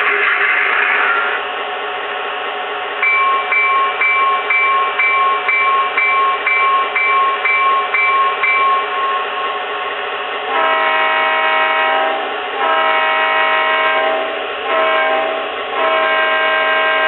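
An Aristocraft model train sound module plays locomotive sounds, a steady mechanical chuffing with bright electronic horn blasts, one long tone and then several shorter repeated toots, loud and clean with no talking.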